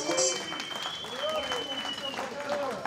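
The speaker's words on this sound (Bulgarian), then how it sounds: "Аплодисменти от всички гости" Guests applauding at a gift-giving celebration evening, steady clapping throughout with voices and tonal sounds mixed over it.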